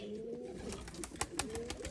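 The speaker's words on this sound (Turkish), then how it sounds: "Bu güvercinler Bergama kuşu" Bergama pigeons, a short-collared breed, coo softly nearby in low repeated calls, with light rustling around them.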